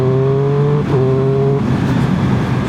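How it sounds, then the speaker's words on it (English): A 2026 Triumph Speed Triple 1200 RS engine drones loudly and steadily. An auto blipper makes a quick rev flick during the downshift, and the motorcycle then carries on with a rougher, throatier rumble. "When you drop it down a gear with the auto blipper and just"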